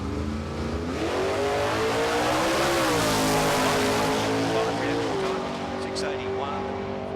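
At a Friday night drag meet at Calder Park, cars accelerate down the strip. Engines roar loudly with rising revs and gear changes, while a commentator talks over them.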